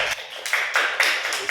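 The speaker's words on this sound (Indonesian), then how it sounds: "Terima kasih tepuk tangan untuk Valen." Applause from an audience at a group guidance session in a teacher-training class, heard as a continuous patter of hand claps with slight swells that runs the whole time at moderate loudness.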